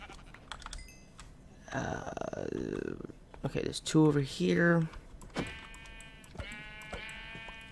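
Sheep bleating in the Minecraft IC2 modpack, several short wavering bleats in the middle of the clip amid game sounds, with someone talking before and after.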